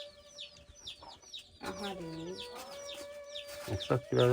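A hen clucks nearby amid high, repeated peeping of her chicks, with a few louder calls and brief rustling toward the end.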